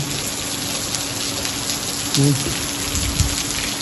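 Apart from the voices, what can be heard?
rain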